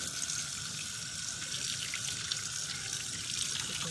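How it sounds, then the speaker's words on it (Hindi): Tap water runs steadily into a sink while pieces of fish are washed under it, a constant soft hiss and splash with no voices. "हमने जो है इसे खुले पानी में वॉश करना है"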